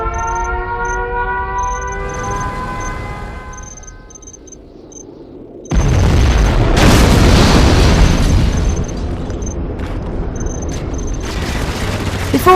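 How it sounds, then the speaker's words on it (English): A nuclear missile strike in a strategy video game starts with a rising synthetic tone and rumble, then hits as a sudden loud, deep blast that rolls on as a long, roaring rumble. "A nuclear missile has been launched."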